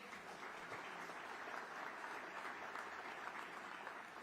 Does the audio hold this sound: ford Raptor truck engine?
no